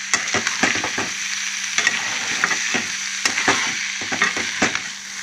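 Vegetable pieces frying in a pan sizzle steadily, close and clear, broken by repeated scraping and clinking as they are stirred, with no talking.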